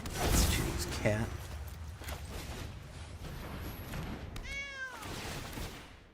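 A cat character in a video game gives a short meow near the end, heard among game effects and whooshes while someone talks over the play.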